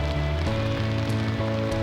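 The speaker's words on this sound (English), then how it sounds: "it's raining right now, but there's blue skies ahead" Rain falling steadily at a backcountry campsite in Glacier National Park, a continuous patter with a low steady hum running beneath it and no one talking.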